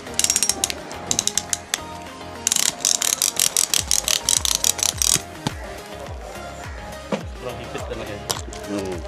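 A ratchet strap is cranked tight on a balikbayan cargo box being loaded into a container, giving bursts of rapid clicking with brief pauses and handling noise between them. Someone talks nearby.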